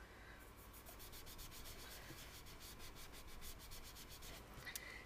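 Quiet, rhythmic scrubbing as an ink blending tool is rubbed back and forth across card to build up a sky, a steady run of soft strokes close by.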